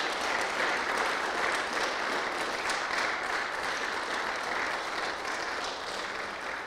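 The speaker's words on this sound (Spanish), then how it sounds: "Damos un fuerte aplauso al Señor." A church congregation clapping loudly for the Lord during a Spanish-language service, a dense and continuous roar of applause that stays steady throughout.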